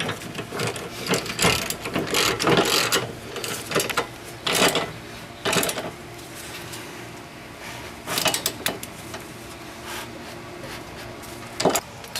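A ratchet wrench tightening small bolts on a Jeep Wrangler Unlimited rock slider, with bursts of rapid close clicking that repeat in irregular runs and pause between strokes, with no talk over them.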